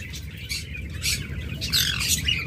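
A pair of blue opaline lovebirds chirps in several quick, shrill tweets and squeaks over a low background hum, close and fairly loud.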